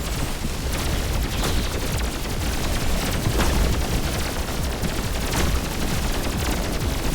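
Video game Pathogenic combat: a continuous, loud, dense wash of gunshots and explosions with steady booms and crackling fire and no pauses.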